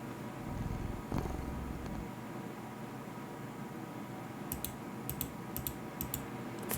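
A cat curled up beside the player in a horror video game purrs softly and steadily, with a low hum under faint, sparse clicking ticks.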